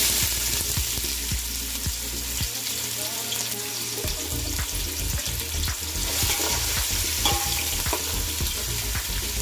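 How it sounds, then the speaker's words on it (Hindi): Onions fry for a pulao in a pan, giving a continuous close sizzle with frequent stirring scrapes and clatters, plus a brief watery trickle partway through. "अनियन को भी गोल्डन ब्राउन होने तक फ्राई करना है फ्रेंड्स।"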